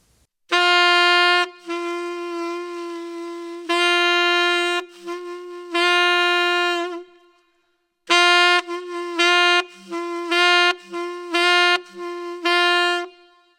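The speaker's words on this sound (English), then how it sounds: "A half-tongue is where you place your tongue very lightly on the reed" A jazz saxophone plays a lively phrase of short, lightly half-tongued notes in two bursts, with some notes softer and de-emphasized, close and clear.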